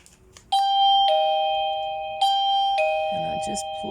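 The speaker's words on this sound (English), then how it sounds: "I just plugged it in, and then I pressed the doorbell thingy" Wireless plug-in doorbell chiming twice, two clear bright ding-dong tones that ring out and decay, with a person talking briefly near the end.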